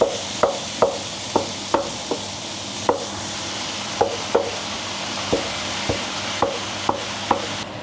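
Ground meat being broken up in a pan for lasagne, a spoon or utensil striking and scraping the pan in sharp, irregular knocks about every half second over a low background sizzle, close and fairly loud, with no talking.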